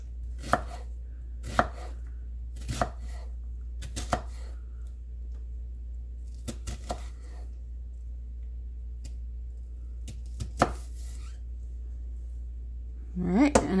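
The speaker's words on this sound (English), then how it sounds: "And I'll keep chopping." A knife chops onions on a cutting board in scattered, sharp knocks, a dozen or so spread irregularly, close and fairly quiet.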